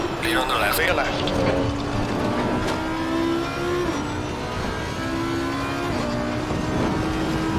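GT3 race cars lapping Brands Hatch in Assetto Corsa Competizione, engines droning steadily with shifting pitch as a pack runs close together, under a continuous layer of spoken radio-style callouts.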